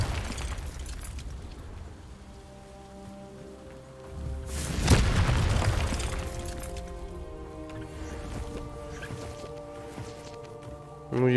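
A Confringo blasting spell explodes in Hogwarts Legacy, a loud broadband boom swelling mid-clip and decaying slowly over sustained game music, with a faint voice briefly present.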